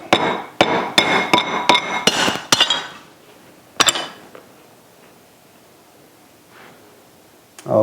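Several sharp, rapid hammer blows crush pine nuts under a cloth on a plate, with clinking overtones, followed by quieter rustling and a couple of isolated knocks.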